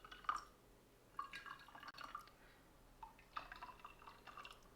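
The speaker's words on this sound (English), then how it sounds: "a little bit of water to all the cold drinks" A small amount of water poured into cold drinks, heard as faint, close trickles and drips in short bursts with soft glassy touches and no talking.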